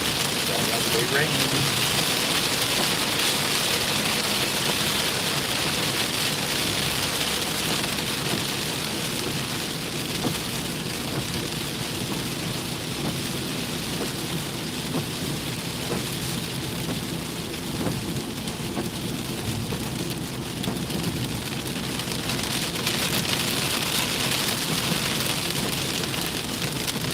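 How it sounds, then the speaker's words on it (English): Heavy springtime rain with big drops pounds a car driving on the road toward Florida. A dense, steady hiss of rain and road noise fills the whole stretch at a constant loud level. "Rain."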